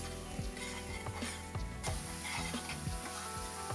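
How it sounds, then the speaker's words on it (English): Tomato sauce for rajma sizzles and spits in a hot pan as it reduces toward a paste, a steady close frying hiss broken by repeated scraping strokes of a stirring spoon. "With the tomato sauce, we want to stir it every 30 seconds so it doesn't burn while it reduces to a paste-like texture."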